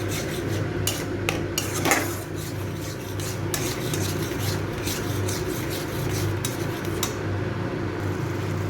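Whisked sour yogurt being stirred into a cooked masala in a pan: repeated scraping of a spoon against metal in an uneven rhythm over a low steady hum, close by, no talking.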